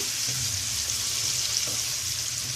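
Onion fries in a spoonful of country ghee, making a steady close hiss of sizzling with faint stirring underneath, and no talking over the short stretch.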